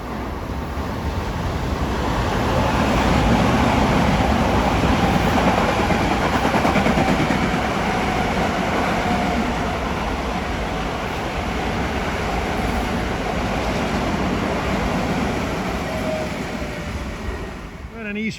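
Westbound Long Island Rail Road diesel train, a converted DM30AC unit, rumbles past at Kew Gardens, a loud, steady broadband roar with rail clatter that swells and holds for many seconds before easing off.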